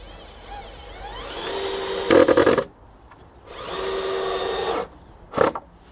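A power drill drives a screw into wood for a balcony garden build: two whirring bursts with rising pitch, each ending in a grinding snug moment, close and without talk.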